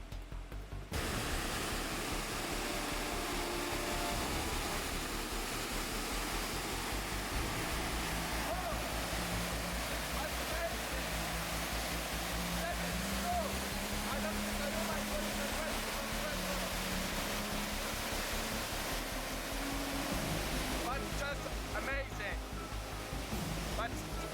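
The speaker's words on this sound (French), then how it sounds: "Cette cascade est follement puissante." Dense, steady roar of rushing water fills the whole clip, a powerful continuous torrent with a low hum running beneath it.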